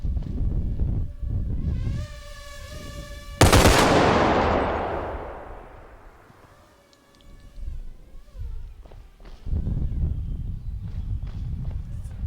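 A loud broadband gunshot burst from the video game SKALD, with a long decaying tail, preceded by a tonal harmonic sound and followed by quieter in-game noises and rumbling.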